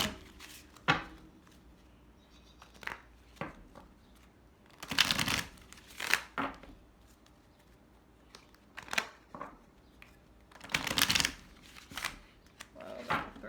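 A deck of cards is shuffled during a spiritual card reading, with several loud riffling bursts separated by quieter handling and a few scattered snaps.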